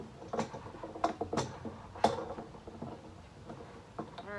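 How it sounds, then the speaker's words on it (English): A lock nut is tightened on a bulkhead fitting at a mixing station, producing sharp intermittent clicks and ratcheting knocks at irregular intervals, close and moderately loud, with quieter scraping between. "I like to use this to hold it in place while I lock down the lock nut just so that it doesn't spin in place."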